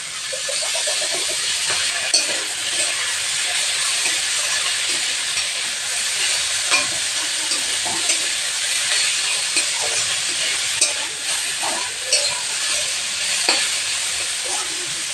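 Dheki greens (fiddlehead fern) frying in mustard oil with onion, green chilli and garlic, a steady close sizzle and hiss with occasional stirring clinks throughout, no talking.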